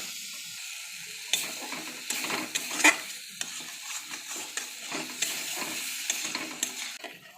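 Potatoes stirred into a spice paste frying in a pan, with a steady sizzle broken by repeated scraping and clattering stirs, close and fairly quiet, no talking.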